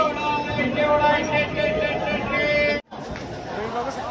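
Crowd chatter fills a busy railway junction in Pune, a dense, steady murmur of many voices nearby that cuts out abruptly near the end before resuming more quietly.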